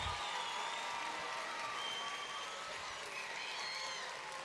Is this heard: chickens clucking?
no